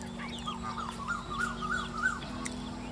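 Betong chickens on a farm in Doi Saket, Chiang Mai, give soft, scattered clucks and chirps, faint and somewhat distant, over a steady low hum with no talking.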